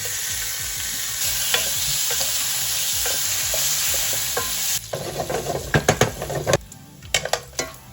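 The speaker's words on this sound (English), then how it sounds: "let's get our bacon crisped up" Bacon sizzles and crackles steadily in a hot pan, then stirring and the scrape and clink of a utensil against the pan take over in short, irregular bursts.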